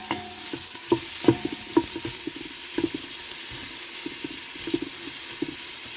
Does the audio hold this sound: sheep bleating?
no